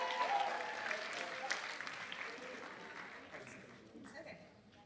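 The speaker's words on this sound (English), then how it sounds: "Let's give a round of applause to Miss Ireland." Audience at an eighth grade awards ceremony breaks into applause, a broad wash of clapping that holds steady and then gradually thins out toward the end.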